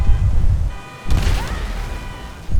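A car explodes in GTA V with a Hulk mod installed: a sharp, loud boom erupts against steady game noise, then rings out with crackling debris, followed by another low thump at the end.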